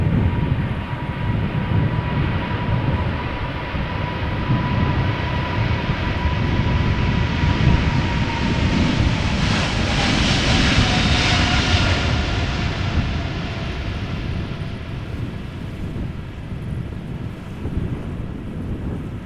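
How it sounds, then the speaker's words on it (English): A KLM Boeing 777-300ER jet, six years old, takes off at Amsterdam Schiphol, its engines roaring loud and steady throughout. The roar swells to a peak midway, then eases slightly, with wind buffeting the microphone. "We're now watching KLM flight 589 taking off to Accra."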